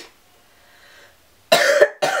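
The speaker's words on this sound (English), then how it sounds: "Nah, it was a cough." Two sharp, close coughs in quick succession after a moment of near silence.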